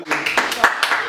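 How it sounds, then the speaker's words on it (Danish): An audience claps for a contestant at a lively Danish game show, a short burst of hand claps under a cheering voice and loud talk. "Kan vi lige give en klap til Alve?"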